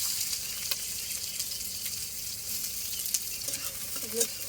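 Chopped onion frying in oil in a pan, a continuous soft high hiss of sizzling with a few faint crackles and light stirring taps, fairly quiet and without talk.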